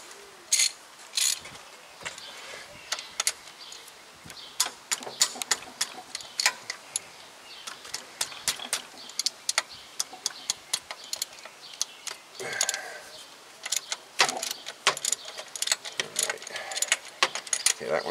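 Wrench cracking loose a 14 millimeter bolt on the starter of a Toyota Corolla with a no-crank no-start fault, heard as scattered metallic ticks, clinks and ratchet clicks at close range, with occasional quiet talk.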